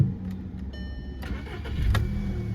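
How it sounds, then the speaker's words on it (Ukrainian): A 2007 Volkswagen Golf with a 1.6 petrol MPI engine cranks briefly, catches and settles into a steady idle, heard up close with a rising rumble as it fires. "Зараз заведемо автомобіль."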